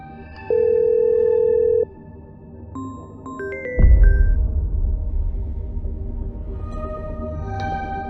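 A telephone sounds electronic tones: first a steady tone, then a run of short stepped beeps, followed by a dense noisy rumble.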